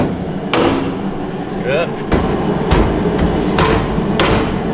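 A hammer's precision end gives several sharp, separate taps while a Rubik's cube-style Rudicon puzzle is being assembled, spaced about a second apart and close by, with a brief spoken remark in between.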